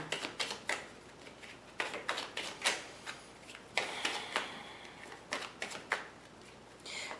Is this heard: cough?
no